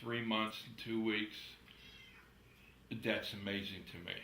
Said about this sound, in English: My cat's not on a diet, as you can hear him in the background.